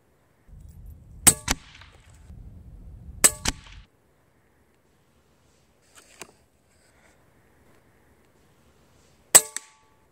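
A Daystate Pulsar PCP bullpup air rifle fires 18 grain JSB pellets in about four separate shots, each a crisp pop quickly followed by a bright metallic clang, with faint handling rumble between the first shots and quiet gaps otherwise.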